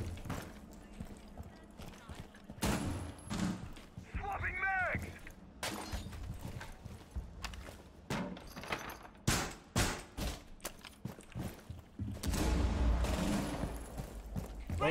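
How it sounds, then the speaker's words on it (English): Rainbow Six Siege gunfire and an explosion crackle in bursts amid in-game footsteps and clatter, with players talking throughout over voice chat. "What was that explosion?"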